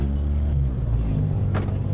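A car engine hums and rumbles steadily at close range, revving with a low, continuous roar throughout.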